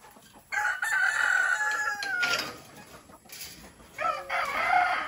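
A rooster crows loudly nearby, with a second crow following and hens clucking around it.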